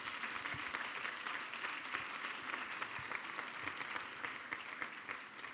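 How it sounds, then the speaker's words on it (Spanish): A church congregation applauds during a sermon, a steady, diffuse wash of clapping from many hands, faint and distant, with no voices over it. "Denle un aplauso al Señor."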